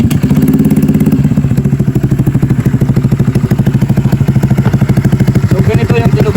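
SC Project motorcycle exhaust fitted with a single silencer insert, idling close up with a steady, even low pulsing throb that holds throughout without revving.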